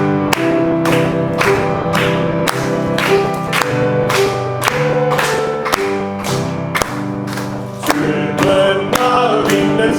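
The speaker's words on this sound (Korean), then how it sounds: "우리 박수 치면서 찬송하겠습니다" A church congregation at a communion Sunday service claps along in a steady, regular beat while singing a hymn with instrumental accompaniment, the sharp rhythmic claps clearly audible through the music.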